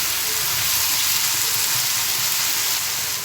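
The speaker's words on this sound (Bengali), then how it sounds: "আলুটা তো ফ্রাই হচ্ছে।" Potatoes fry in hot oil, making a loud, steady, close sizzle that stays unbroken from start to finish with no talking over it.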